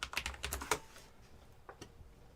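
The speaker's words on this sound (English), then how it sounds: "Do I have to type in graph?" Quick bursts of keystrokes on a computer keyboard, a fast cluster of taps followed by a couple of isolated clicks, fairly quiet and close with no talking.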